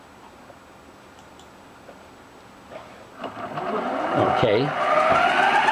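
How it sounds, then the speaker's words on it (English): A CNC machine spindle motor is switched on and spins up, a whining hum that rises steadily over the last few seconds and keeps running loud and close after a brief spoken word. "Now I'll turn the spindle on."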